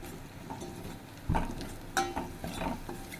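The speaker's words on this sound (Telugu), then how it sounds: "జీలకర్ర, మిరియాలు, వెల్లుల్లిపాయలు, ఈ మూడు మనం ఇలా ఆయిల్లో వేసుకుందామండి" Cumin, black pepper and garlic frying in hot oil in a pan for South Indian rasam: a soft steady sizzle with a few scraping stirs and light clinks of a spoon against the pan.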